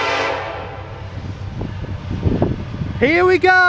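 Norfolk Southern southbound intermodal freight train on the Sandusky line in Marion, Ohio, sounds a loud horn blast near the end, after a low rumble of the approaching train, with someone talking briefly beforehand.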